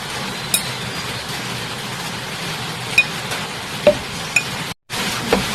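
Vegetables are mixed in refined oil in a pan, with a steady close sizzle of frying throughout and a few sharp clinks of the utensil against the pan, then a brief gap of silence.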